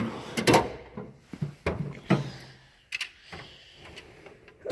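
Drawers of a Snap-on KRA 5318 tool box are worked in a garage, a series of sharp metallic clacks and sliding rattles in uneven bursts, close and fairly loud.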